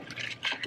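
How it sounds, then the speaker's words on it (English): Water poured into a cooking pot holding lentils and chopped vegetables, a brief close splashing fill lasting under a second. "I'm gonna add 2 cups of water."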